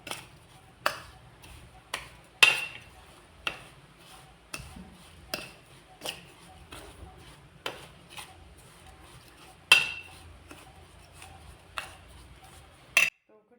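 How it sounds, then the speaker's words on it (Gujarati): Spice masala being mixed into chillies for a pickle, a slow series of sharp clicks and scrapes of a utensil against a bowl, roughly one every second, close and fairly quiet. "આપણે મરચાં મિક્સ કરી લઈએ આપણે મસાલો"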